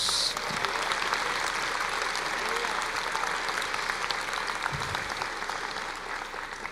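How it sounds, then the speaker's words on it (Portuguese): A church congregation applauds steadily during a sermon, a sustained wash of clapping from a large crowd heard at moderate distance. "Você pode aplaudir o Senhor?"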